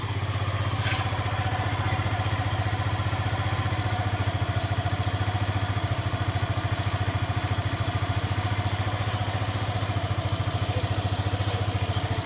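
An idling motorcycle engine with a misfiring fault chugs in a steady, fast low pulse with a light mechanical clatter, close and continuous, with no talking.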